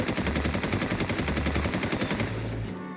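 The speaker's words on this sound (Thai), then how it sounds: "จะลองยิงสายแบบสกาไข่ดูนะค รับ" SCAR rifle firing in the online shooter Infestation: one long, rapid burst of evenly spaced shots at close range that stops just before the end.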